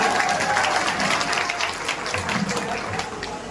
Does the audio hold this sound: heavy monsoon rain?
no